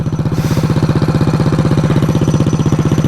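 A mini chopper motorcycle's small engine idles loudly and close up, its rapid, even putter pulsing steadily throughout with no talking.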